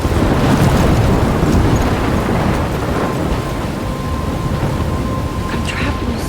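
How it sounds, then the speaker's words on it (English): Thunderstorm ambience from the video game Life Is Strange: dense, steady rain and wind with a deep rumbling roll of thunder, loud and continuous throughout, no one talking. "I'm trapped in a storm?"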